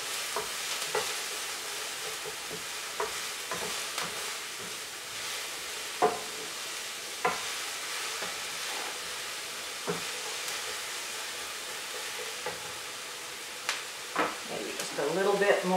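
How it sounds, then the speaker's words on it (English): Chopped onion in a little olive oil sizzles gently over moderate heat, a steady crackle punctuated by regular scrapes and taps of a spoon stirring the pan. "I'll simmer the onions"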